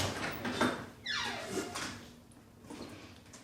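A door sliding open with a rising scraping whoosh, close by, followed by its rumble fading into room noise.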